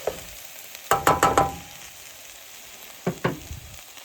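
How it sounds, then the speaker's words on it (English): Noodles frying in a pan until light golden brown, a soft steady sizzle with a few sharp clattering stirs and scrapes in short bursts. "you basically cook these until the noodles turn like a light golden brown color"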